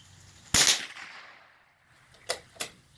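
A .22 LR rifle fires one sharp, loud shot at an outdoor target, followed by a fading tail and two fainter distant cracks or impacts afterward.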